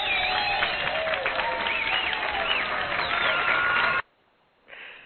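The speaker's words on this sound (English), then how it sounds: "that's the most applause I've had in years. Holy shit. Well, too bad it's all canned." Canned applause sound effect: a steady, dense burst of recorded clapping and crowd noise that cuts off abruptly, followed by a brief faint tail.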